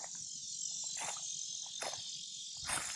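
A cicada buzzes loudly on an island among fire ant hills, a continuous high shrill drone heard up close with a few brief rustling bursts and no talking.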